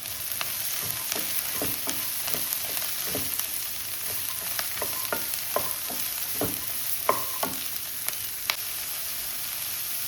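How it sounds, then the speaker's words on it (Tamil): Beans and carrots sautéing in a pan with onions for poriyal, a steady sizzle broken by repeated scraping stir strokes throughout, close and moderately loud with no talking. "கட் பண்ணி வச்சுருக்க பீன்ஸும் கேரட்டையும் போட்டு கொஞ்சம் வதக்கிடுவோம்."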